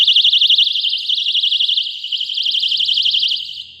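A handheld personal safety alarm, triggered by pulling its pin, shrieks with a piercing, rapidly warbling siren tone, very loud and close, sounding continuously alone.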